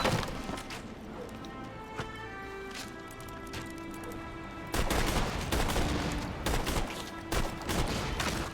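Sharp repeated gunshots in Borderlands 2, scattered single cracks over game music, then a louder sustained volley of fire.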